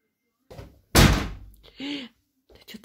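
A door slams shut loudly in a home, one sharp heavy bang following brief footsteps, with people talking just after.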